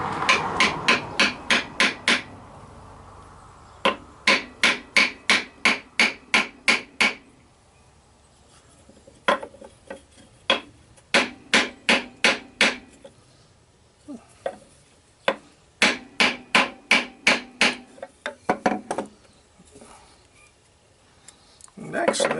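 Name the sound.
hammering an oak piece into wood side grain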